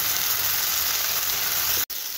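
Ginger, garlic and chilli paste frying in oil alongside potatoes makes a steady, loud sizzle with no voices, then cuts out abruptly near the end before resuming.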